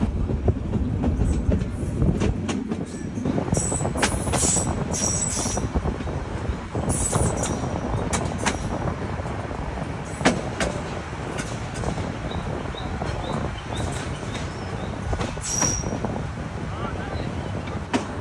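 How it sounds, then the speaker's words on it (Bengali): The Sagorika Express passenger train rolls into Hajiganj railway station on the Chandpur–Chattogram line, a continuous loud rumble with rhythmic clicks and clatter of wheels on rail joints throughout, heard from on board. "এই মুহূর্তে আমাদের ট্রেন প্রবেশ করছে এই রুটের অন্যতম একটি নামকরা স্টেশন হাজীগঞ্জ রেলওয়ে স্টেশনে"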